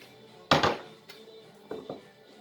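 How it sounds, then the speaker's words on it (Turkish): Yogurt and pasta being stirred together in a bowl for a cold meze, starting with one sharp clatter against the bowl and followed by a couple of softer scraping clinks, close and with no talking. "bir kase yoğurdumu makarnayla iyice karıştırıyorum"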